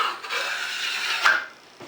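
A 12 inch Marshaltown trowel skim coats a small wall with a close, steady scraping swish that swells into one firmer stroke before easing off.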